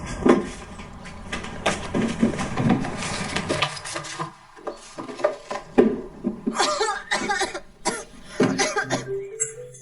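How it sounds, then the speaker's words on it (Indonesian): Persistent coughing indoors, repeated harsh coughs and throat clearing in irregular bursts, close and loud, with some faint clatter and other voices around. "Batuknya nggak berhenti-berhenti."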